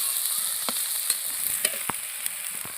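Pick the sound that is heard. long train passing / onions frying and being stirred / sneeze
onions frying and being stirred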